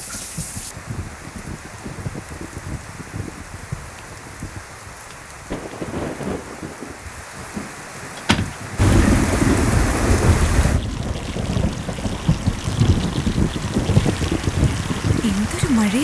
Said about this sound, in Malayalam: എന്തൊരു മഴയാ ഇത്.